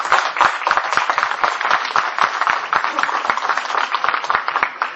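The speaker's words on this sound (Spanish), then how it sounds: "Démosles la bienvenida con fuertes aplausos" A seated audience at a book presentation claps loudly to welcome the panelists, a dense, continuous patter of many hands held at an even level throughout.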